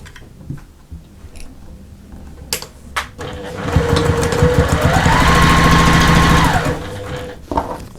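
Sewing machine stitching the two long sides of fabric pieces for a travel case, a steady rapid mechanical whir that builds to a loud continuous run in the middle, with lighter handling clicks before and after.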